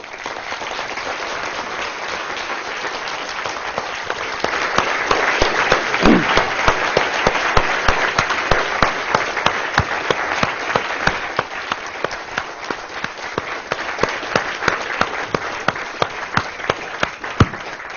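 A lecture audience applauds after a talk on science and drug-policy politics, a steady dense clapping from a sizable crowd that rises slightly, holds for several seconds, then thins toward the end.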